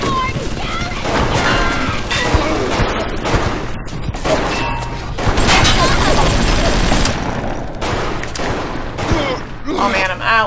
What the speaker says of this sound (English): you can freaking hear the freaking pistols